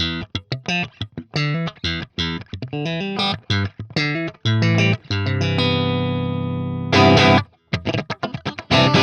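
A guitar amp plugin on its clean default setting plays crisp, percussive picked notes and choppy chords. A longer ringing note sustains before the rhythmic strumming resumes, with no talking.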